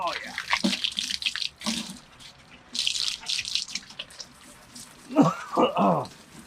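Water runs and splashes while an old 55 gallon glass aquarium is rinsed out, bursts of gushing flow starting and stopping, with a person talking over the rinsing between sprays.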